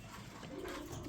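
Pigeon kept among a collection of fancy breeds such as English trumpeter pigeons, giving a brief, faint low coo, quiet and somewhat distant.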